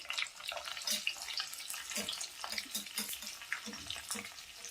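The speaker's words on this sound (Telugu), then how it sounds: "ఎండుమిర్చి వేసుకుని ఒక నిమిషం వేయించుకుని, తర్వాత వెల్లుల్లి రెబ్బలు కొంచెం ఎక్కువ వేసుకోవాలి" Dry red chillies and garlic cloves sizzle and crackle steadily in hot oil in a pan, with occasional stirring scrapes, a soft continuous frying hiss throughout.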